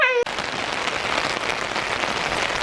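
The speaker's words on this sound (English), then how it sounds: "We're all ready for a walk in the rain." Steady rain falls outdoors during a walk, a dense, continuous hiss of drops close by that starts abruptly and carries on evenly throughout.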